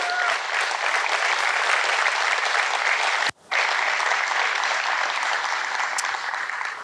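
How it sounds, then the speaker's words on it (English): A crowd at a high school ribbon cutting ceremony claps in a long, steady round of applause, broken by one abrupt brief dropout midway before resuming at the same level. "I want you to give yourself a round of applause because it's because of you."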